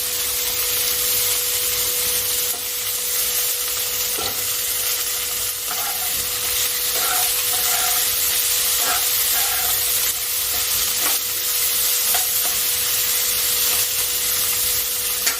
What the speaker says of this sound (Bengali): টমেটোটাকে একটু নাড়াচাড়া করে আমি দিয়ে দিলাম দুটো পটল আর একটা ছোট আলু